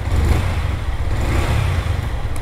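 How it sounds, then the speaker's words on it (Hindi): A 2024 Yamaha R15 V3 motorcycle revs with a steady, rumbling exhaust note, close and fairly loud and holding an even drone throughout with no voices. "ये अपना एग्जॉस्ट नोट है"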